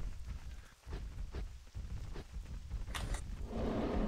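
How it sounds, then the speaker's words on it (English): Rain falling in the World of Warcraft zone Tol Barad makes a steady, moderate wash of patter, with faint distant rumbles and a couple of brief sharp accents near the end. "Rain, huh, guys?"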